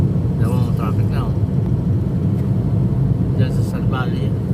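A taxi creeps through stop-and-go traffic near a toll gate, its engine droning low and steady throughout, with two brief bursts of talk over it.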